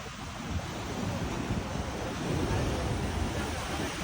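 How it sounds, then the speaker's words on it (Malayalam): Strong ocean waves break at Pozhikkara beach in a steady, loud roar of surf, with gusty wind buffeting the microphone throughout. "തിരമാലയൊക്കെ അതിശക്തമായ തിരമാലയാണ് വരുന്നത്"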